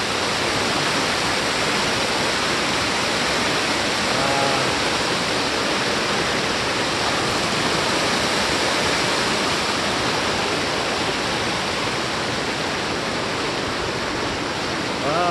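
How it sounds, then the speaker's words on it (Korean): Heavy rush of abundant flowing water in Songgye Valley, a mountain stream roaring loud and close as a constant, unbroken wash of noise with no pauses. "여기 송계계곡 이야 물이 엄청 많죠?"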